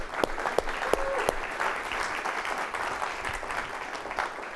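An audience at a business pitch contest applauds the finalists, a full, even round of clapping with a few sharp claps standing out near the start.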